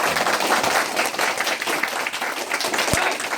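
An elementary school audience claps for a student at a classroom history event, a loud, close burst of dense applause filling the whole short moment without pause.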